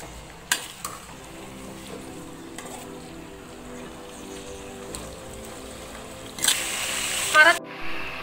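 Chicken being sautéed and stirred in a pot for Muradabadi biryani, a soft, steady frying sizzle with occasional scraping stirs, a brief louder rustle near the end, faint and close, with no talk over it.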